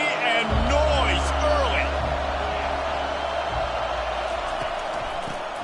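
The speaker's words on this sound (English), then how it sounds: "This crowd bringing the energy and noise" Football stadium crowd at an NCAA college game, a broad steady roar of many voices filling the space, loud and continuous with a commentator talking over it.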